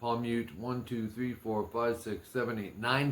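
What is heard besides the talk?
None of the usual background noises is heard.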